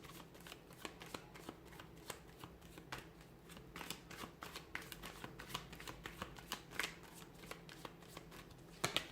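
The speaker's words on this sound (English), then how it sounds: "give the cards a shuffle" A deck of tarot cards being shuffled up close, with a quick run of soft papery flicks and riffles in an uneven rhythm, quiet and steady with no voices.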